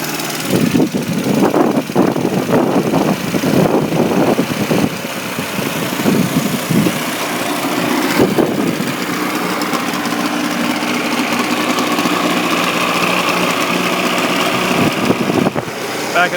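A 1975 Evinrude 40 HP outboard motor runs steadily with a buzzy drone and is revved up, its pitch and loudness rising. Voices talk over the engine early on.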